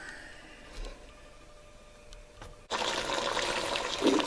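Oxtail pieces go into a wine-based stew pot. A few soft knocks over a quiet background give way to a sudden, loud, continuous rush of bubbling and sizzling that holds to the end.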